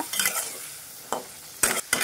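Fried potatoes go into sizzling spice masala for aloo dum and are stirred, loud close bursts of sizzle and scraping in short separate strokes.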